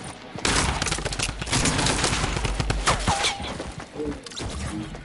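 Rapid bursts of gunfire from a Fortnite match, loud and dense volleys of overlapping shots with crashing impacts, running almost continuously for several seconds.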